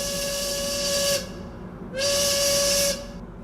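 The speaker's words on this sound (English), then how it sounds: "as soon as we got up a bit of steam, he blew the whistle for the first time out in the lake" Steam whistle on a wood-fired steam boat boiler out on a lake, two loud sustained hissing toots about a second each, with a gap between.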